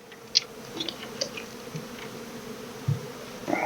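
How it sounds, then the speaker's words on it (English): Honeybees hum softly in a crowded hive during a Colorado beekeeping inspection, a low, even drone broken by a few faint clicks and knocks of equipment. "you can see it's wall to wall bees"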